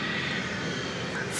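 UPS cargo plane engines firing up at DFW Airport at night, heard as a steady, broad jet roar from some distance, continuous and even, with a faint whine riding over the rumble.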